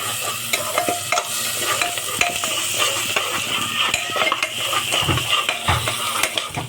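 Ginger-garlic paste being stirred into frying onions: steady scraping and stirring in a hot pan with a continuous sizzle of frying, occasional utensil clinks against the metal, no voices.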